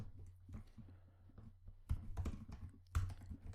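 Typing on a computer keyboard to enter label text, soft irregular keystrokes with two louder bursts of clacking over a low hum, no talking.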